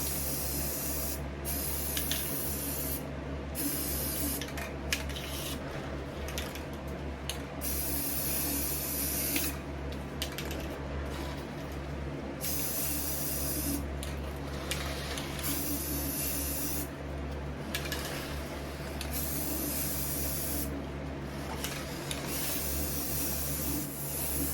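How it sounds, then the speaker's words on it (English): Rust-Oleum black spray paint hisses from an aerosol can in long steady sprays over a thrift store item, close and continuous, broken by brief pauses as the nozzle is released and pressed again. "now I'm going to spray the inside with some of the Rust-Oleum black"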